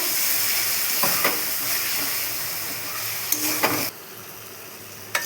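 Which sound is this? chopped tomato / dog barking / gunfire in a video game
chopped tomato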